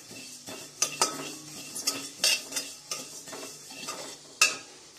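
Ajwain (carom seeds) lightly frying in a pan while a metal spoon stirs and scrapes against it, giving sharp clinks over a gentle sizzle, close and fairly clear.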